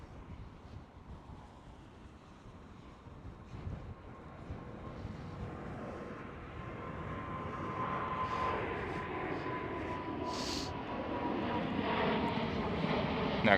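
A Boeing 747 jet at Amsterdam Schiphol airport rumbles from a distance, the roar swelling gradually louder over several seconds, with wind buffeting the microphone.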